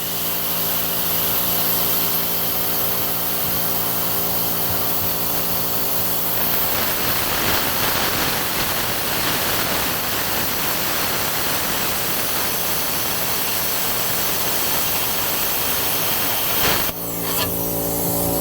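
A plasma cutter slices through steel for the firewood grizzly bars of a wood splitter, a loud, steady hissing roar of air and arc that runs nearly continuously before cutting off abruptly near the end.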